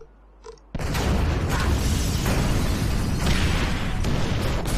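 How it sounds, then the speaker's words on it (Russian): Fire bombs detonating in GTA 5 set off a sudden loud blast after a short quiet lead-in, followed by a sustained roaring rumble of explosions and fire that stays dense and loud to the end. "Подорвать."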